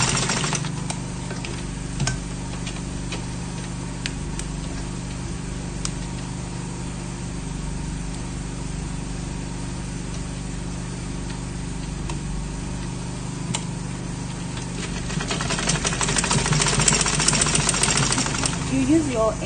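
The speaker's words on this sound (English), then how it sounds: "So you take it to your machine and sew it straight." Sewing machine stitching a braided headband, a continuous close mechanical hum and whir with faint clicks, growing busier and louder near the end.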